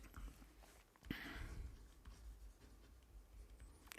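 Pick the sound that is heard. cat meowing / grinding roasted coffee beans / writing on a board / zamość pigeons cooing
writing on a board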